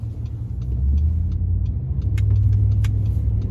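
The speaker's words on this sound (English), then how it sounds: "Traffic." Road traffic passing close by, a heavy continuous low rumble of vehicles that swells as they go past, with faint ticking sounds above and no talking.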